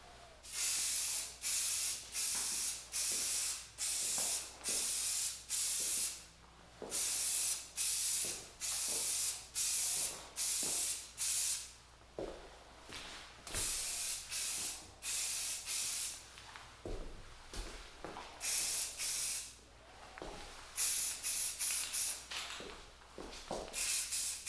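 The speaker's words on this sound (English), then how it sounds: "let's spray this with some primer. I'm using some trim clad, just some gray, plain gray primer" Repeated bursts of an aerosol can spraying plain gray Rust-Oleum-style trim primer onto parts of a 1950s AGM KampLite LRL-21B lantern, close and loud hissing in many short rhythmic passes with brief pauses, no talking.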